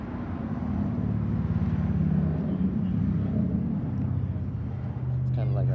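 A 2015 Yamaha FJ-09 motorcycle with a cut-off exhaust idles in a steady, low, continuous rumble close by, with someone talking over it throughout.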